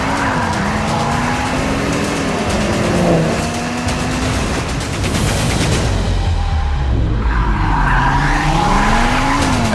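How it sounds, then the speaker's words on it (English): Audi RS3 with its five-cylinder engine revving hard as tires squeal and skid, loud and close with rising and falling engine pitch and sustained screeching. "And that unique 5-cylinder sound will forever be synonymous with Audi."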